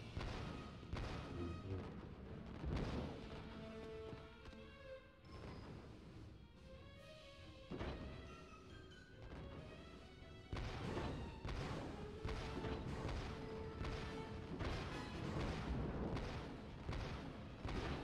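Turret cannon fire and explosions in a Star Wars video game: repeated booming shots and blasts over a layer of game music, loud and continuous, with no talk.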